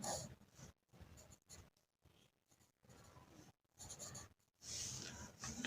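A pencil and compass draw arcs on paper for a machine-drawing exercise on a sectioned triangular pyramid. Several short scratchy strokes are separated by brief silences, close and soft, with a stronger rasping stroke near the end.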